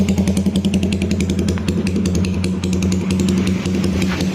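Close, loud idle of a Yamaha Scorpio motorcycle fitted with a DPJ GP exhaust: a deep, uneven, chugging beat of exhaust pulses that rolls on steadily without any talk.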